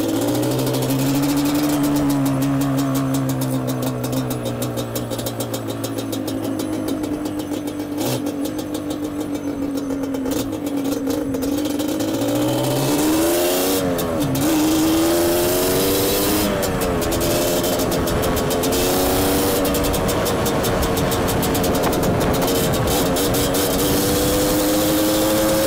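A Yamaha Banshee ATV engine with a small exhaust leak runs steadily and close, its pitch climbing and dipping as it revs, with a faint rattly buzz and no talking.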